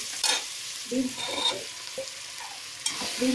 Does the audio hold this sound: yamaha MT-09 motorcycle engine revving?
no